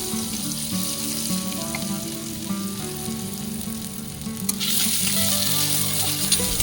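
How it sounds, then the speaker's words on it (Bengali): Chopped onion frying in a pan with cumin seeds, a steady close sizzle with light stirring that grows a little louder and brighter toward the end, no voices. "এবার আমি পেঁয়াজটাকে ভালো করে ভেজে নেব।"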